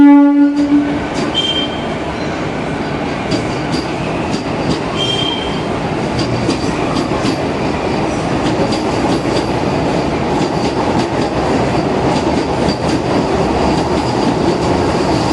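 A first-class AC Chennai local train running from Beach to Tambaram opens with a brief horn blast, then settles into a loud, steady rumble with rhythmic wheel clatter and occasional high squeals.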